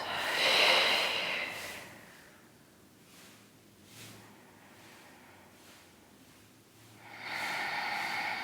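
Slow, deep yoga breaths during relaxation, a long airy inhale then a soft drawn-out exhale and another breath beginning, close and alone with no talking.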